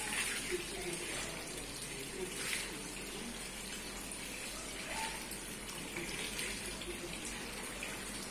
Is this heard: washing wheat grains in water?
yes